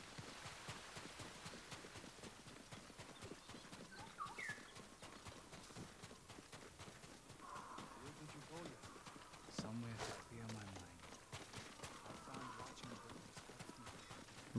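Horse hooves clip-clop steadily in Ghost of Tsushima gameplay, a rhythmic trotting patter running under game music and effects, with someone talking over it throughout.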